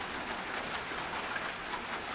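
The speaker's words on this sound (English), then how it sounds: "it's got to rain real fucking loud now" Heavy rain pours steadily and loudly, a dense, even hiss of falling water with no breaks and no voices.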